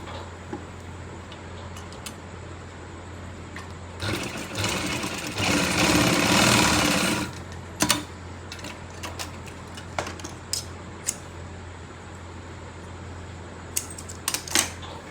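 A sewing machine stitches the second pleat of a palazzo pant in one steady run of about three seconds mid-clip. Scattered ticks and a low hum surround it, and no one speaks.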